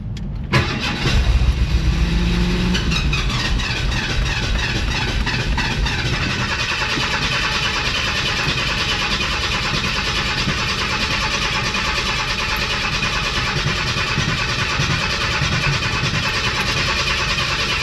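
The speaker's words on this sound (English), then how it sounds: "Well, the starter's staying engaged." A 1991 Ford F150 cranks and catches, then runs with the starter still engaged, a steady loud engine drone with a harsh whirring layered on top that continues unbroken throughout.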